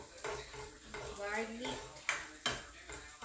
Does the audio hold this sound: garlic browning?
yes